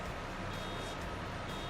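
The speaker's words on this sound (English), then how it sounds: "They're already slowing me down and beeping like crazy." Farm machinery in Farming Simulator 22 beeps persistently over a steady, dense engine and mechanical noise, the warning tones faint and continuous beneath the rumble throughout.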